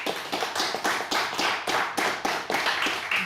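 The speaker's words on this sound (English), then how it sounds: "Can we have one more warm round of applause" During an Irish song session, people clap for a singer in a steady, even rhythm. The claps sound close and crisp, with about three evenly spaced beats per second and no talking.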